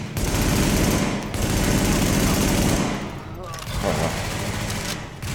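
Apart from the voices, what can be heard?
submachine gun fire in The Division video game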